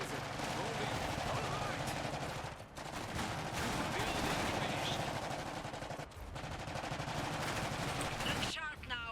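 Gunfire in the real-time strategy game Iron Harvest during a multiplayer battle, with light machine-gun fire: dense, rattling bursts that run almost continuously, broken by two brief lulls, with faint voices mixed in.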